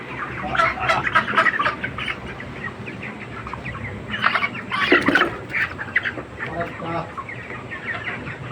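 Many chickens cluck and squawk nearby in a busy, overlapping chorus, with a few people talking among them.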